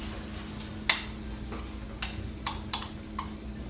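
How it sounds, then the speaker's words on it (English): Soft, steady sizzle of curry paste frying in hot oil for Guyanese-style chicken curry, with a few light clicks and scrapes of stirring; quiet and close, no talking. "I'm gonna add my curry to the oil, and you can hear it starting to sizzle there."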